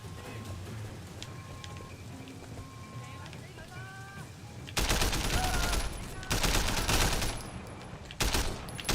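Gunfire in Sleeping Dogs, quiet game ambience with a few tonal beeps at first, then loud rapid bursts of shots in close succession, with a pause and another burst near the end.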